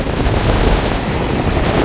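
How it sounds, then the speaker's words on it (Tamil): Rough sea after a storm at Keerimalai, waves churning and crashing in a loud continuous roar mixed with heavy wind buffeting the microphone, no voices. "இங்கே வந்து எப்படி வந்து கொந்தளிக்கிண்டு பாருங்க கடல் இந்த புயலுடைய தாக்கம் வந்து இன்னும் விட்டு போகலை"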